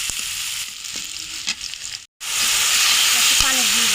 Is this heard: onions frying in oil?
yes